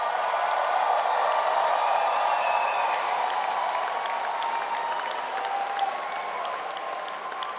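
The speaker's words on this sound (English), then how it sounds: "before we begin our round of applause" A graduation ceremony audience at Edinburgh Napier University gives a sustained round of applause, a dense, steady wash of many hands clapping in a large hall that slowly tapers toward the end.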